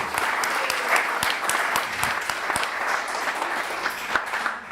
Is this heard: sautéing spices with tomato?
no